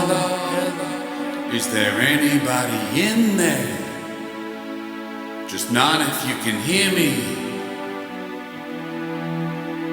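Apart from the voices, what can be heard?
700 millisecond delay on sung vocal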